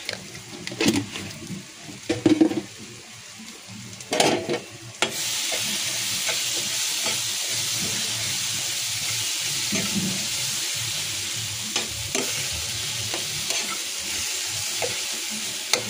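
Dried shrimp chutney ingredients with turmeric, red chilli and salt are stirred in a pan, a few spoon scrapes first, then a loud, steady sizzle of frying that runs on continuously.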